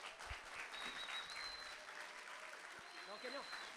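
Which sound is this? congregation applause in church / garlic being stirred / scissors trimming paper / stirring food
congregation applause in church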